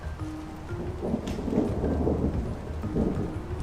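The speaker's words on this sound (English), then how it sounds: "it started thundering on me." Rolling thunder rumbles low and heavy through a steady rainstorm, swelling in deep waves over the constant hiss of falling rain, with no voices.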